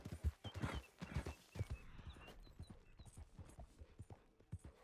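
Horse hooves clip-clop in a steady walking rhythm in Red Dead Redemption 2 Online, close and fairly quiet, with a faint whinny-like tone early on.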